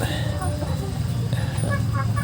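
Hens in a flock of new breeding stock kept for egg laying give short, scattered clucks over steady low background noise, with someone talking over them.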